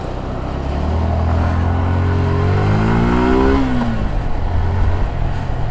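A motorcycle on a test ride after its fourth paid servicing revs up: a steady engine hum swells into a rising, whining rev, then drops back to a rougher running drone, close and loud with no speech.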